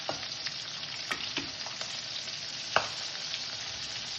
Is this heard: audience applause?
no